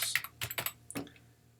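Quick clattering keystrokes on a computer keyboard, a short burst of a few taps close up and fairly quiet, with no voices.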